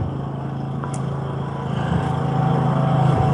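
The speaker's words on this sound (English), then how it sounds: "Sorry about the noise, but the tractor should be gone shortly." A tractor engine drones nearby as a steady low rumble with a throbbing rhythm, growing slightly louder toward the end, with no speech.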